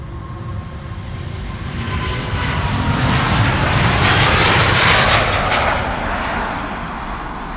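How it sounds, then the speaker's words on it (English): A seven-year-old Delta Air Lines Airbus A350 departs Amsterdam Schiphol, its engine roar rising to a loud, full peak in the middle before easing off, with no voices. "This is Delta Airlines Flight 161, which will be going to Minneapolis, Minnesota."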